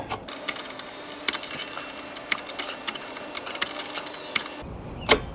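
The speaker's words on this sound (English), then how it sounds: "So we're screwing it back in." A part being screwed back onto an oil burner drum, producing irregular metallic clicks and small clanks at close range over a low steady hum, ending in a sharper clink.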